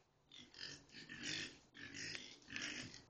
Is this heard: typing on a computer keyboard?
no